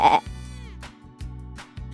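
A sheep bleats in a few short, wavering calls, close and clear, each cry breaking off and starting again over about two seconds.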